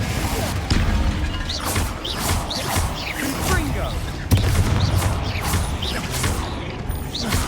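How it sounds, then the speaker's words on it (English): A Confringo fire spell explodes in the game Hogwarts Legacy, with rumbling blasts, crackling bursts and whooshing debris layered over game music, including a sudden louder impact midway. "Confringo!"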